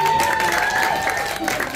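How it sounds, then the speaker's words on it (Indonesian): Brief burst of audience applause at a neighbourhood quiz competition between local teams, lively clapping with some crowd noise and a voice over it. "Tepuk tangannya."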